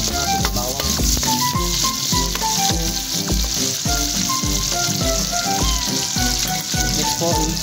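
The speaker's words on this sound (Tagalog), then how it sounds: "lalagyan na po natin yung bawang" Garlic sizzling in hot oil in a pan for pinakbet, a continuous loud crackling fry with repeated clinks and scrapes of a stirring utensil, no talking.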